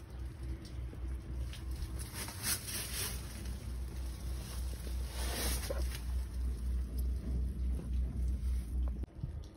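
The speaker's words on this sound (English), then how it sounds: "Have you ever wondered how a peanut combine works?" A peanut combine harvests peanut vines in the field, a steady mechanical rumble and rattle with wind buffeting the microphone, continuous and fairly close throughout.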